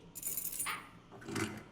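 Keys jangle in Conker: Live & Reloaded, two quick bright metallic rattles in succession, close and fairly loud, with no talking.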